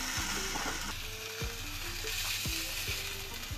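Tandoori chicken pieces pan-roasting on a gas stove, a steady soft sizzle broken by several sharp clinks of a utensil against the pan.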